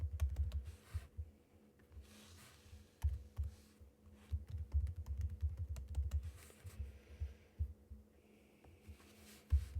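Someone types a password on a computer keyboard, a quick stream of faint, irregular key clicks over a low background hum.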